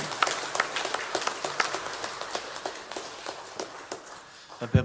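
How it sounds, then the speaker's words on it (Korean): A church congregation claps together during Sunday worship in scattered, uneven rhythm for several seconds, the applause fairly close and filling a large room. "우리에게 죄사함을 주신 주님께 영광의 박수를 올려드렸습니다."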